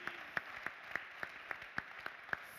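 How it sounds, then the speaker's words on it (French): Sparse, evenly spaced handclaps, about three per second, sound faintly at a French project management forum talk, with no voices over them. "On l'applaudit, il est bon, oh Manu."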